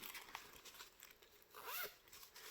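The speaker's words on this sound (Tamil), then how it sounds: "டாப்பில் ஒரு ஜிப்பு வரும், சைடில் பேக் சைடில் ஒரு ஜிப்பு வரும்." A zipper on a soft, smooth-material bag is pulled open in short quick zips, close and fairly quiet, with a longer rasping pull near the end and no talking.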